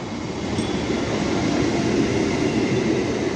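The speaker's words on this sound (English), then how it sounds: "MMTS local train is coming." An MMTS local train with a Chennai ICF rake skips Sanath Nagar station in Hyderabad, giving a continuous close rumble of rolling stock that swells slightly as it passes.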